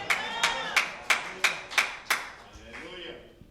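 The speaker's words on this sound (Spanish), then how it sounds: "Dele a Él un aplauso" Congregation clapping during a church worship service, a string of about seven distinct, evenly spaced claps with a slight ringing echo, fairly faint, then trailing into softer scattered sound.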